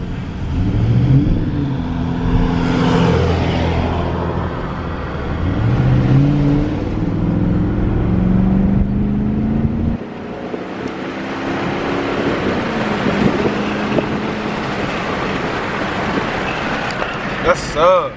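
A brand new car drives steadily with its engine and road noise loud and close throughout. The engine revs up as it accelerates partway through, and there is no talk.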